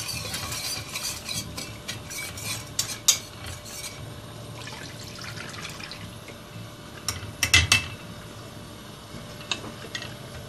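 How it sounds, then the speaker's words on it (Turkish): A spoon scrapes and stirs through semolina and milk in a pot, with steady swishing and a few sharper clinks against the side. "güzelce karıştıralım"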